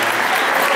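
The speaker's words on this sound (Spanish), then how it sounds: "Fuerte el aplauso." Audience applause at a community festival award ceremony on stage, a dense, steady wash of clapping from a crowd throughout, loud and close with no break.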